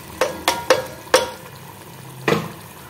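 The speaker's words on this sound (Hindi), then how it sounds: "मिक्स करेंगे भून लेंगे।" Tomato paste fries with meat in a pan for a masala okra gosht dish, giving a soft sizzle under several distinct scraping stirring strokes close by.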